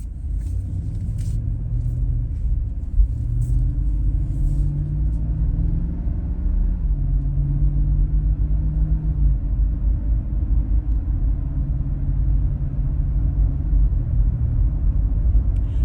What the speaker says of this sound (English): that was us accelerating from a dead stop around a corner and up to the 45-mile-an-hour speed limit